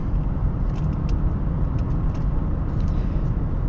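Cabin road noise inside a 2015 Acura RDX while driving: a steady low rumble of tires and engine with a faint higher hiss, constant and close, with no one speaking.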